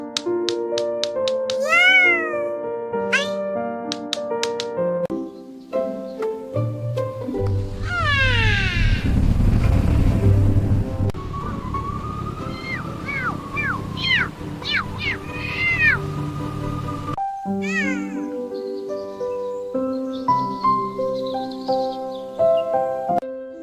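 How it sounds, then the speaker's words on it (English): A cartoon cat meows repeatedly in rising and falling cries over a loud, busy music and effects bed, the calls clustered in quick runs throughout. "Meow starts now."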